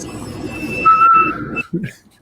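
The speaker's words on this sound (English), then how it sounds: "I hear it definitely whistling" A thin high whistle from a laser cutter's air line rises and shifts pitch, steady tones lasting about a second over low machine rumble, then cut off abruptly with a brief clatter.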